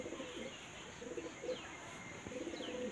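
Full running pigeons cooing softly in a loft, several low coos repeating over a steady faint background hiss, with a few brief chirps, fairly distant and quiet.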